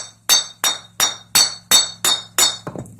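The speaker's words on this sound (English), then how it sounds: "I don't know if you can hear that high-pitched glass kind of" Work-hardened copper bowl hammered on a wooden dishing stump, seven evenly spaced sharp strikes with a bright glassy ring, closing with a quicker, softer flurry of taps.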